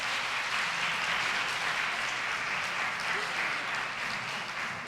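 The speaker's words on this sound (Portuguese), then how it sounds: "Palmas a todos." An audience at a legislative school event on violence against women claps continuously, a dense, even wash of applause held at steady loudness throughout.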